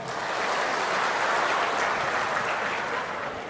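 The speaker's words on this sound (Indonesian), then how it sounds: "Tepuk tangan untuk kita semuanya." A conference audience at an Indonesian ministry national working meeting claps together, a dense, continuous round of applause rising and holding steady for a few seconds before tapering slightly.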